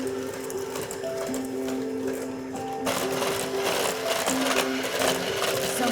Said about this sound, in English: I'm gonna put my 4 ounces of soft, unsalted butter into my bowl with my sugar mix, and I'm gonna cream this up for just a couple of minutes